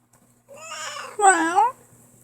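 Heidi, a cat, gives two meows in a row: a drawn-out first call, then a louder, rising and falling second one, close by in a quiet room.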